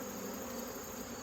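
Honey bees buzzing around hive frames, a dense continuous drone close by, steady and unbroken throughout.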